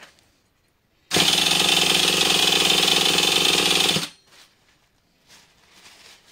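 A nitromethane-fueled HPI Savage XL 5.9 RC car engine roars into a loud, close, steady buzzing run for about three seconds, then cuts out, leaving faint rustling afterward.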